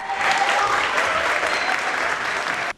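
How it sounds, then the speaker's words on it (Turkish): Loud, dense applause from an audience in Australia's Federal Parliament after a performance by African students at a language and culture festival, sustained evenly for a few seconds before cutting off abruptly. "Enfes gösteri büyük alkış aldı."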